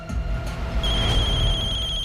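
A phone rings with an incoming call indoors, a sustained electronic high-pitched ringtone tone that starts shortly into the stretch and holds steadily at moderate loudness over a low background rumble, with no speech.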